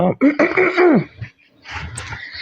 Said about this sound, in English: Let me sit well and clear my throat